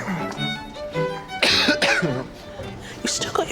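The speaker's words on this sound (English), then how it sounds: "You still got your cough?" A couple of short coughs break out amid nearby conversation in a GP's office, with voices talking before and after.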